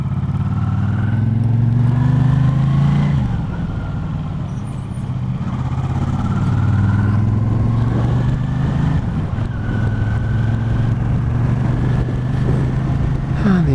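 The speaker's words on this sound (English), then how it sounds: "the engine sounds as sweet as nut, burbling along, quite happy" A Yamaha TDM motorcycle engine burbles steadily while riding, a low throbbing drone that rises and falls with throttle changes and wind rush over the run.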